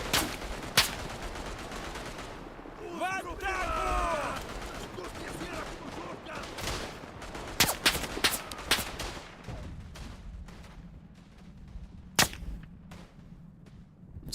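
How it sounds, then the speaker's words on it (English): Gunfire in the World War I shooter Tannenberg on the eastern front, with scattered sharp rifle cracks, some close and some distant, against a rumbling battlefield background. Brief voice-like sounds mix in early on. "Somebody's shooting at me from over here."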